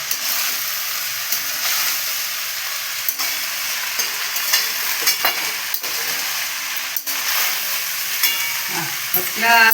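Egg paneer fried rice is stirred in a hot pan, with scraping and tapping strokes over a continuous frying sizzle and a brief clatter at the end.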